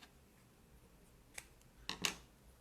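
Scissors cut through a length of ribbon, a faint snip followed by two sharper close snips near the end of an otherwise quiet stretch.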